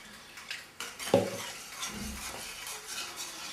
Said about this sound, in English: add the 2 cups of milk a little bit by a little bit at a time, maybe a third at a time, and stir this in